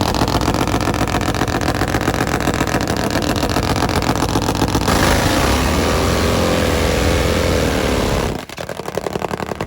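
Nitro-fuelled drag motorcycles, a lone Top Fuel Harley-Davidson and a Suzuki, roar at full throttle in a loud, continuous engine blast that holds steady, then cuts out sharply near the end before a fainter engine rumble returns.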